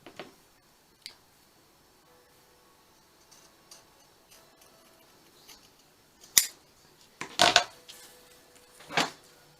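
Scissors cutting fabric for a reverse appliqué tag, a few quiet snips early, then a cluster of louder, crisp close cuts toward the end, no talking.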